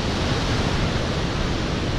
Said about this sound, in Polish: Cała ta woda z całym impetem